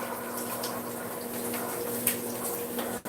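Cold tap water runs steadily into a kitchen sink during washing up while cooking breakfast, a constant hiss of flow that ends abruptly with a brief dip near the end.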